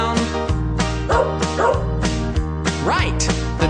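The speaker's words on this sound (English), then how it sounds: "the dogs go as they chase and tease the cats" Farm dogs bark and yip in a quick, repeated run of loud, close calls, with some whimpering yelps and no talking.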